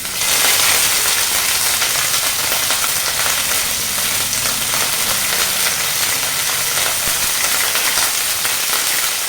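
Curry leaves crackle and fry in hot coconut oil with popped mustard seeds, a steady, loud, close sizzle that runs unbroken throughout with no voices.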